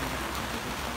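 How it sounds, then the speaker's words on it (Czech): Steady, dense rain falls outdoors near a castle and park, a continuous even hiss of drops on surfaces with no pauses and no voices. "Lebo jakože fakt dost prší."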